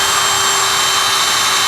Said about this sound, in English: We'll drill our holes